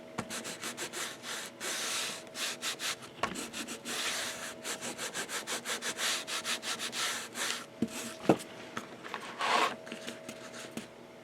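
Hard burnishing tool rubbed firmly along the flat-laid spine of a lay flat briefcase album binding, a close run of quick scraping strokes over paper and board, with a few sharper knocks toward the end.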